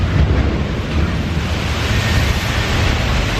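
A theme park flume ride's log crashes down into water, throwing up a big splash that lands as a loud, continuous broadband rush of spraying water, with no speech over it.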